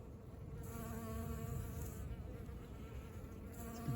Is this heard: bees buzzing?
yes